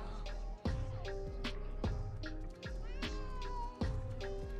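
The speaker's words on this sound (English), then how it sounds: "No, don't kick the cat." A cat meows and caterwauls repeatedly in a scene from the Disney movie Hocus Pocus, with drawn-out, wavering cries over a layer of music and film sound, fairly close but mixed at modest volume.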